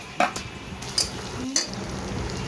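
Sliced onion goes into a hot pan of fried ginger and garlic for veg Schezwan fried rice, bringing a few close metallic clinks and scrapes of stirring over a low, faint sizzle, no talking.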